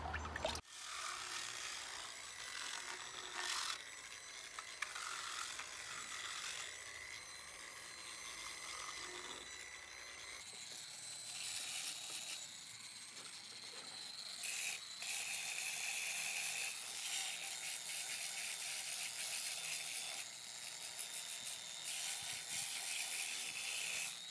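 A concrete speaker cabinet is sanded with aggressive 50-grit abrasive, a continuous loud grinding rasp that shifts in intensity through the stretch, with no talking.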